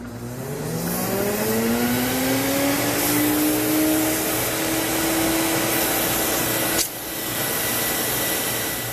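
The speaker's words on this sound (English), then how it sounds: "turn the machine on, and this will dry the hose for you" A Sirena water-filter vacuum cleaner runs to dry its hose: a loud, steady motor roar whose whine climbs in pitch as it spins up, then shifts abruptly near the end.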